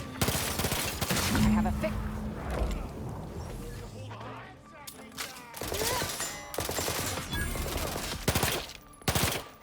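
Rapid bursts of automatic gunfire crackle in The Outer Worlds 2, dense volleys separated by short pauses, loud and close, with a voice speaking briefly over the shooting.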